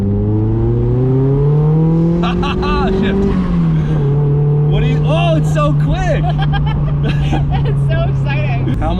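A turbocharged Mazda Miata accelerates hard, its engine note climbing loudly, dipping briefly at a gear shift, then pulling steadily again, with excited voices talking over the drone inside the car.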